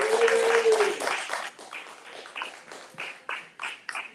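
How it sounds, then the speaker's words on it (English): Audience applause for an elite team at a pinning ceremony: a loud burst of clapping with a short cheer at the start, thinning quickly into scattered, uneven individual claps. "Please clap for our team."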